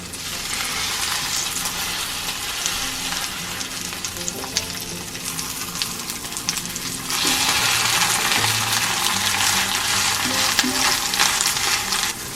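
Skewers coated in egg batter pan-frying, a continuous close sizzle that rises and thickens partway through, with occasional soft clinks and scraping over the hiss.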